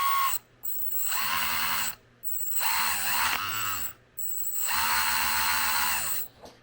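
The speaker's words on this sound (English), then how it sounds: "The motor's giving me grief." A faulty electric motor in an RC Helldiver Neptune submarine whirs in several short bursts with gear whine and rising, falling pitch, separated by brief silences, close up with no talk.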